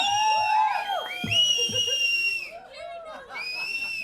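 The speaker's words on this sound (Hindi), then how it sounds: "सीटियां जोर से, जज्बाती सीटियां जो बजा रहे हैं जोर से" Loud, shrill whistles from an audience at a film trailer launch rise and fall over crowd chatter and cheering, continuing through most of the stretch.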